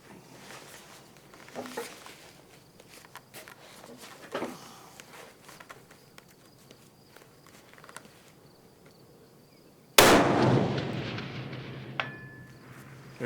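A Weatherby Backcountry TI rifle fires once at a 500-yard target outdoors, a single loud sharp blast with a rolling tail that follows several seconds of quiet insect-filled ambience.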